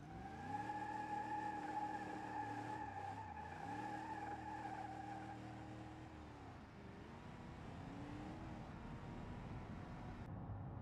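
A 1970 Dodge Coronet R/T Super Bee with a mildly built engine accelerates, its engine tone rising and shifting through gears with tire squeal, moderately near and fairly loud, no talk.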